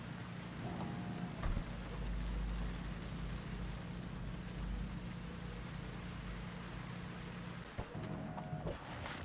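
Steady rain in Cyberpunk 2077 hisses throughout at a moderate level, with a low rumble underneath and a couple of brief knocks.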